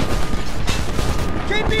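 Gunfire in the video game Homefront, loud dense bursts of shots and booming battle noise running continuously, with shouted voices mixed in.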